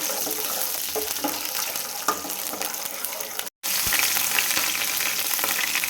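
Chana dal and garlic hitting hot oil with mustard seeds already in the pan: a loud, continuous crackling sizzle close by, cut briefly by a moment of silence before it resumes just as strongly.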